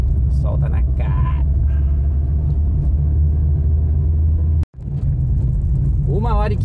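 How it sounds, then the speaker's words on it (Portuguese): Car shaking and rumbling along a bumpy dirt road, a loud continuous low-pitched rumble with rattling, cut by a sharp brief dropout near the end, with brief voices heard over it. "Já bate menos o carro. Tá trepidando tudo."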